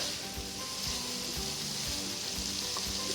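Vegetables sizzle steadily in a hot pan under a continuous broadband hiss, with soft scraping stir strokes breaking through every half second or so, close and moderately loud, with no talking.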